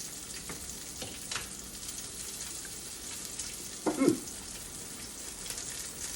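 Salmon sears in a hot pan with a steady, close crackling sizzle, and one louder spitting burst of hot fat flares up briefly partway through.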